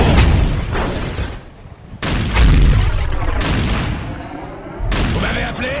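Orbital bombardment in a Warhammer 40K video game: loud, close booming blasts in several separate bursts, each with rumbling low-end decay, alongside game battle effects.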